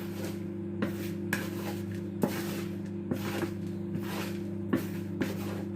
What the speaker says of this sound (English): now we can mix them all together. Mix it with a wooden spoon